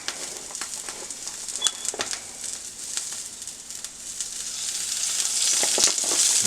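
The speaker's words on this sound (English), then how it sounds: "we're just going to saute that up" Carrots sautéing in oil in a pan, a crackling sizzle that builds slightly louder toward the end, with faint bird cooing in the background.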